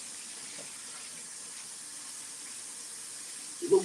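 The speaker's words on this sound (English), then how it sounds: "I wash out my chicken. Mm-mm. Mm-mm. With some lukewarm water." Lukewarm tap water runs steadily while raw chicken is rinsed in a kitchen sink, a continuous soft hiss with a brief splash or clunk near the end and no speech.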